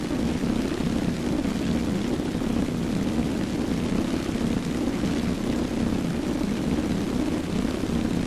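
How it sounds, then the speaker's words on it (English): Propeller aircraft engine droning steadily in a combat flight video game as the plane circles to land on a runway, a constant buzzing hum with no breaks. "I got the runway in front of me, so I come around and land"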